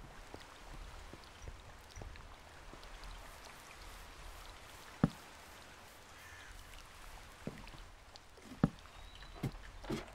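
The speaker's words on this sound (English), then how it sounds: "I like the sound of the rain." Rain falls in Minecraft, played with the Mc Eternal modpack. It is a faint, steady patter with a few scattered sharper drops and clicks, heard alone without speech.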